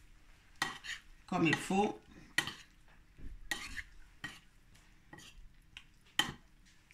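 Coconut-crusted shrimp are dipped and stirred in beaten egg in a bowl, giving soft wet squishes with sharp clinks of utensil against the dish, close and quiet, and a few spoken words.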